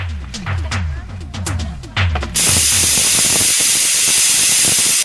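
A pressure cooker cooking dal lets off its whistle, bursting into a loud, steady, close hiss of escaping steam after a few seconds of voices talking.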